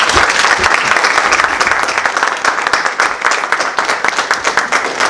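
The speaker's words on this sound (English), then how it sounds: "Guys, you care to give this crew another round of applause?" A school audience at a Knox Central Chamber of Commerce event gives a loud, dense round of applause, many hands clapping close by in a sustained burst.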